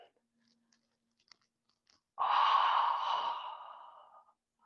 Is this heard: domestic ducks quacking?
no